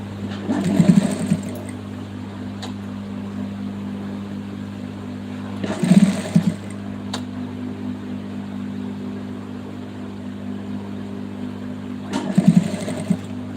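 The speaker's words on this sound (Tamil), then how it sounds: "நான் டிசைன் ப்ளவுஸ் தைச்சிட்டு இருக்கேன்" A sewing machine stitches a designer blouse in three short, loud bursts of rapid whirring stitches, each about a second long, separated by pauses filled with a steady low electrical hum.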